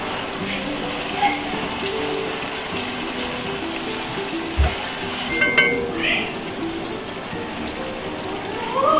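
Tomato paste with green chillies, ginger-garlic paste and masoor, frying in a pan: a loud, continuous close sizzle with occasional stirring scrapes and clinks, no speech over it.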